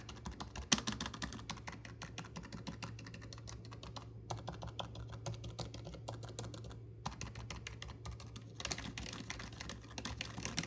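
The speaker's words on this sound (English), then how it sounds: "I'm really slamming on these keys." Fast, continuous typing on a Skiff 100 Plus membrane keyboard, with soft, muted keystrokes pattering steadily at close range, broken by two brief pauses and a slightly heavier burst near the end.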